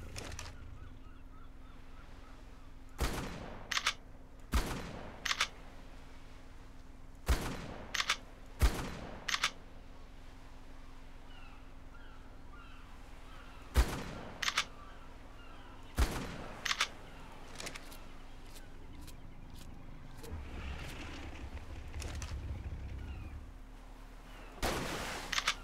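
Shotgun blasts fired in the video game ARK, about a dozen sharp, loud single shots spaced irregularly over a quiet, steady hum, with a low rumble near the end.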